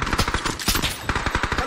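Rapid gunfire in a shooter video game, a fast string of sharp close shots in uneven bursts with brief gaps.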